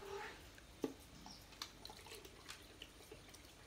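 Water poured and splashing into a dog bowl, brief trickles and drips close by, with a distinct splash near the start, in a quiet indoor morning setting.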